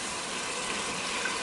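Chicken stock pours from a container into a pot of thickening broccoli cheddar soup, a steady close splashing gush lasting the whole moment without any voices.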